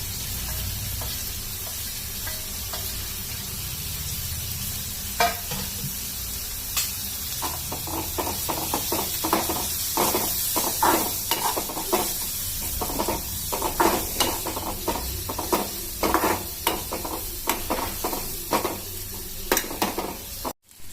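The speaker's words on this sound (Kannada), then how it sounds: "ಈರುಳ್ಳಿ ಚೆನ್ನಾಗಿ ಫ್ರೈ ಆಗಿದೆ." Onions fry in a pan with curry leaves and turmeric for tamarind gojju, a steady close sizzle with repeated scraping stirs growing more frequent, loud and continuous with no talking.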